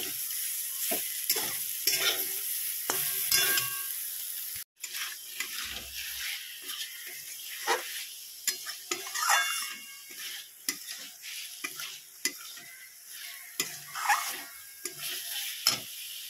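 Potatoes and bitter gourd frying in a pan, with a steady close sizzle broken by repeated stirring scrapes and clinks, plus a brief splash of running tap water; no talking.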